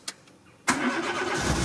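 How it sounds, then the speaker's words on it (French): A car engine cranks and catches, roaring up loudly after a brief faint click and then settling into a steady idle, close by with no voices. "On va démarrer, je démarre la voiture"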